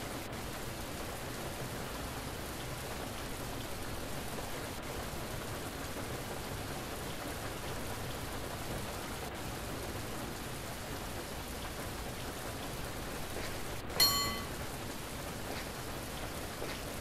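Steady rain falls throughout a San Francisco trolley ride in the Bus & Cable Car Simulator game, a faint, even hiss with one brief sharp click near the end.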